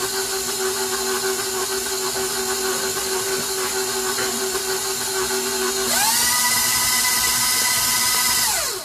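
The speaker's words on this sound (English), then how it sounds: "let's mix that in to our batter" An electric mixer whirs steadily through banana bread batter, a constant motor drone that jumps to a higher, louder pitch partway through before easing back down at the end.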